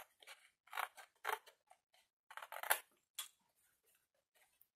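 Scissors snip through cardboard from a box, several quick crisp cuts in short bursts with brief pauses between them, close and clear.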